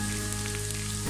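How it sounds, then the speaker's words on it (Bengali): Onions with ginger paste frying in a pan, a steady hiss that stays even and fairly faint throughout, with a low hum underneath and no talking. "আমি পেঁয়াজটাকে ভেজে নিচ্ছি। এর মধ্যে আমি এখন হাফ চা চামচ আদা বাটা দিয়ে দিচ্ছি"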